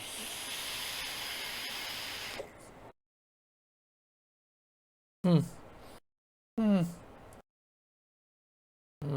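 A vape with its airflow turned down gives a steady hiss during a draw lasting about two and a half seconds, then silence broken by short bursts of talk.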